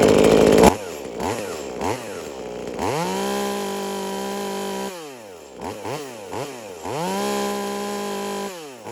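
A V-Modest 2511 top-handle chainsaw, a clone of the Echo 2511, is being tuned by ear. It revs sharply several times and then holds at a loud, steady high pitch. The sound is close and clear, with no talking.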